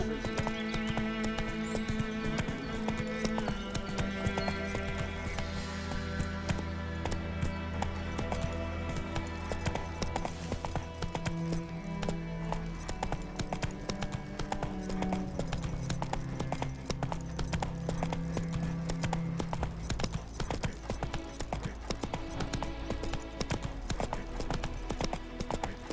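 Hoofbeats of the horse Roach galloping in The Witcher 3, a steady rapid clip-clop running throughout under a loud, continuous orchestral game score, with a brief whinny possible.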